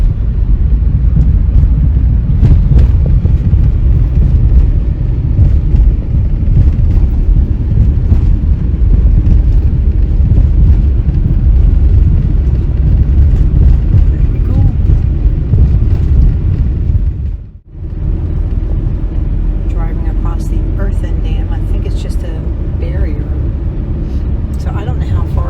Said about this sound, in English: We are driving across, I believe it's called Conchas Lake Dam.